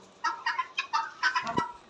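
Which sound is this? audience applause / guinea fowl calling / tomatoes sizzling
guinea fowl calling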